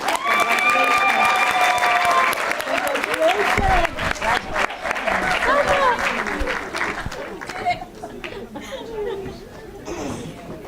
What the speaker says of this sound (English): one more round of applause for all of our honorees tonight